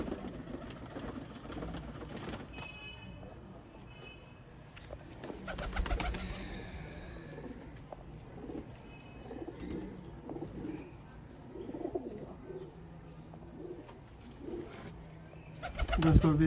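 Pigeons coo in low, intermittent bursts against a murky background, with occasional rustling and thumps nearby among fancy black-faced pigeons.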